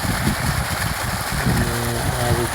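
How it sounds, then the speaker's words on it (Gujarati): Water from a farm borewell pours into a vegetable field of brinjal plants, making a steady, loud rushing wash. A low rumble underneath stays constant throughout. "આ રીતના પાણી જાય છે અત્યારે"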